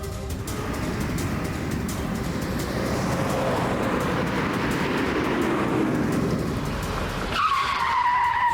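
A car with failed brakes skidding, a sustained loud roar of tyres and engine, joined near the end by a higher squealing tone.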